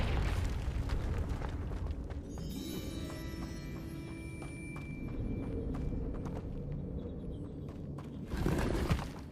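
A fiery spell blast erupts in a video game, a deep rumbling explosion that rolls on and crackles for several seconds before a second burst near the end.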